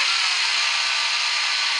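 A power drill bores a bit through a steel bolt on a Suzuki GS850 motorcycle, a steady, loud, continuous high whine with no pauses.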